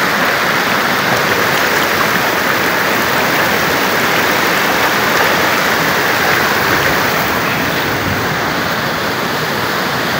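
Water rushes through a cave in a steady, loud, unbroken roar, dense and constant for the whole stretch with no talking over it.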